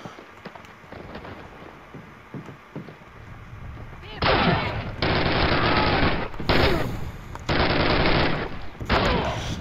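Call of Duty gunfire: after a quieter stretch of faint game sounds, loud automatic bursts erupt in long, repeated volleys with short gaps between them, close and harsh.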